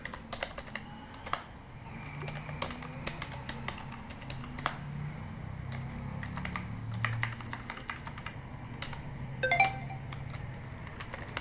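Steady typing on a computer keyboard to log in as root on an Asterisk FreePBX phone system, close clear key clicks with irregular rhythm and occasional louder keystrokes over a low hum.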